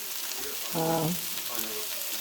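Seasoned chicken sizzles on a grill in a steady soft frying hiss, with a short spoken phrase partway through.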